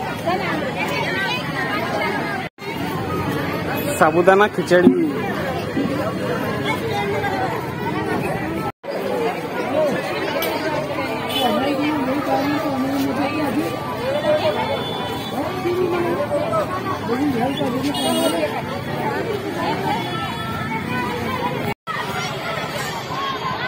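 A steady murmur of a large crowd of devotees at the Gajanan Maharaj temple during darshan, dense overlapping chatter and voices filling the space continuously, with a few brief louder exclamations.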